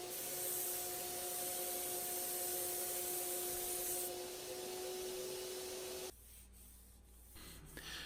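Thin finish coat being wiped and rubbed onto walnut wood in two quick passes, a steady close rubbing and faint hiss that runs continuously for about six seconds and then drops to a quieter, softer texture.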